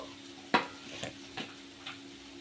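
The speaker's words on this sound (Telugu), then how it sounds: "ఇప్పుడు చక్కగా నీట్గా మిక్స్ చేసుకోవాలి" Spiced egg kheema curry being stirred in a pan, with one sharp spoon scrape followed by a few lighter scraping strokes over a low, steady sizzle, close up and without speech.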